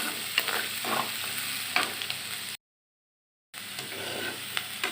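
Lentils dry-fried with only a few drops of oil until crunchy, crackling and sizzling steadily in a pan with faint stirring scrapes, close and fairly quiet, cut by a second of silence before resuming.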